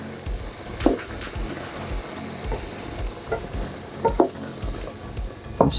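Jambalaya ingredients sizzle in a pot while a spoon scrapes and stirs in irregular strokes, with occasional louder knocks against the metal and no talking.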